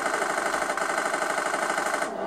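Rapid, continuous automatic gunfire in GTA San Andreas rattles loud and close for about two seconds before cutting off, with no talking over it.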